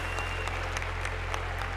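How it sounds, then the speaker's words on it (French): Audience applause at a cattle show as cows head back to their stalls, a steady, moderately quiet patter of clapping over a continuous low hum, lasting under two seconds. "Vous pouvez les applaudir, hein"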